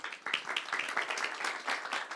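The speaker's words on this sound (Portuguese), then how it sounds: "para a gente poder pedir uma salva de palmas" Audience applause at a marketing panel event, a dense, steady round of clapping from a crowd, fairly faint and brief.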